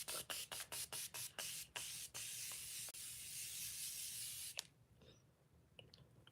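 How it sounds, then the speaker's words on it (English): Makeup setting spray mists onto a face in a rapid series of short hissing pumps followed by one long continuous spray, close to the mic, then quiet. "we're going to lock everything in with this setting spray"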